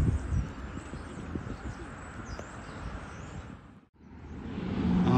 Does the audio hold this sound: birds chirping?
yes